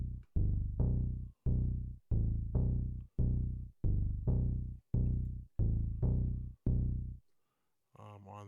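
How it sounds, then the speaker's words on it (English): An Arturia Mini V3 Moog-emulation synth playing its BSS wheel bass preset: a dozen or so punchy, rhythmic bass notes repeat loudly and evenly, followed at the very end by a brief voice. "Then I went to the Mini V3, which is a Moog simulation from Arturia."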